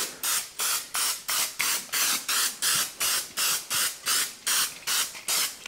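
Rapid repeated hissing bursts from an aerosol can of vegetable oil sprayed onto salmon, about a dozen short sprays in a steady rhythm, close by.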